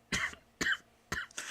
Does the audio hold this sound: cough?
yes